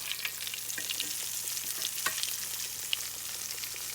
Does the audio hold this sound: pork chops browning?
yes